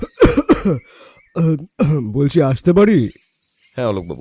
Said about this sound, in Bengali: বাইরে একটা কাশির শব্দ শুনতে পেলাম।